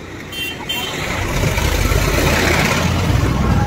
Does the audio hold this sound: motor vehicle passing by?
yes